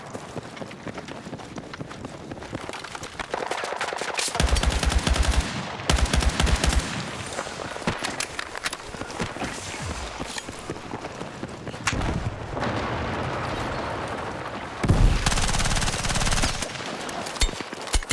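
Rapid gunfire in the video game Battlefield Redsec: sustained automatic bursts and single shots crackle nearly nonstop, loud and close, with heavy low booms at intervals.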